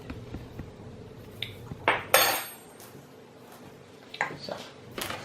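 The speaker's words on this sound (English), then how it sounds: "we're going to start mixing these ingredients into our already mixed butter" Clinks and scrapes of a utensil against a mixing bowl as flour and buttermilk are worked into creamed butter for a strawberries and cream cake, a few sharp knocks among quieter scraping.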